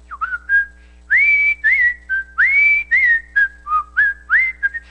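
A person whistles a melodic tune in a church setting, a string of bright, clear phrases with short gaps between them, close and fairly loud, with no talking.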